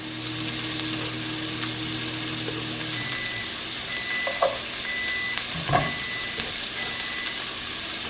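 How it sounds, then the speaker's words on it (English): A microwave oven hums steadily nearby, then goes quiet and gives a few short, faint beeps. "You guys hear the microwave?"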